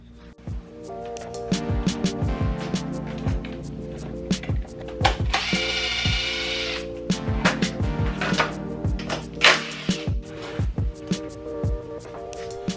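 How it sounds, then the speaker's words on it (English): Tools and hardware clink and rattle while the rear seat and rear fairing come off a motorcycle, with scattered close metallic taps, a short ratcheting burst, and brief rustling handling noises. "We're gonna take the rear seat off with the key, take the rear fairing off, and then we'll take the seat off"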